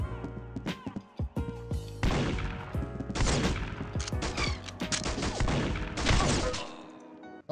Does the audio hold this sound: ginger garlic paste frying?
no